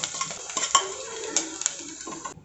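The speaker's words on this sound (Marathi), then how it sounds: "कांदा, मोहरी आणि जिरं हे आता आपण चांगलं परतून घेऊयात।" Onion, mustard seeds and cumin sautéed in oil in a pressure cooker, with a spatula clanking and scraping against the metal in quick, busy strokes over a low sizzle.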